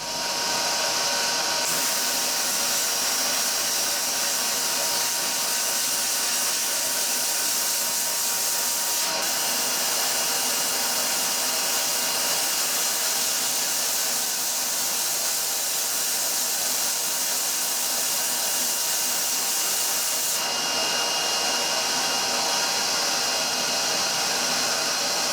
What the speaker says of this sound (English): I'm using soda blasting rather than sandblasting